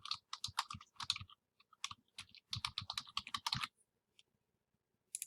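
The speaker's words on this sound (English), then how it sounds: "you can type in the correct login information" Login details typed on a computer keyboard, quick bursts of crisp close keystrokes in uneven clusters with short pauses, then a lull near the end and a final couple of taps.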